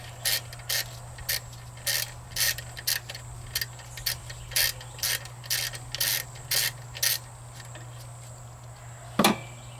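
A socket wrench ratcheting on a nut of a Pontiac GM plenum intake manifold, evenly spaced bursts of clicking repeated about twice a second, close, over a steady low hum, ending with one sharp clack.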